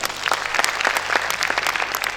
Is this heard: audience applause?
yes